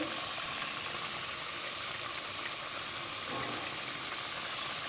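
Ridge gourd curry boils in a pot with a soft, steady bubbling hiss that stays constant and fairly quiet throughout.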